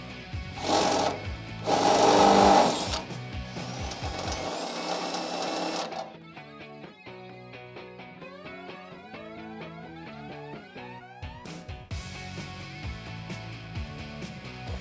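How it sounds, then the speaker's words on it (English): A step bit drills holes through a Jeep Wrangler JK front body panel for nutserts, with bursts of loud whirring and grinding, a pause, then a lighter rhythmic rattling before the drill starts again. "42 holes in total that we have to drill out. So I am just going to use a step bit"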